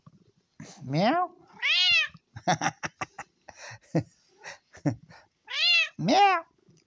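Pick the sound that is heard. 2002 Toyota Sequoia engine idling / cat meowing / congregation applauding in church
cat meowing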